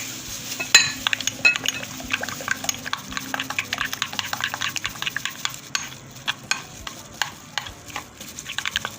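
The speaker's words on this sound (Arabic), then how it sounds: "دي معلقه التوم هنحطها كده على الزبدة ونقلبها كده مع رشة فلفل اسود ورشة ملح" Garlic stirred into melted butter with black pepper and salt in a pan, a spoon scraping and clinking steadily against the metal over a soft sizzle, close and continuous with no talk.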